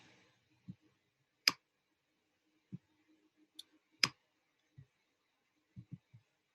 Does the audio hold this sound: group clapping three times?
no